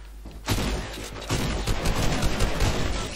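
Gunfire in the video game Fortnite, a dense, loud and continuous barrage of overlapping shots and impacts that lasts throughout, with no talk.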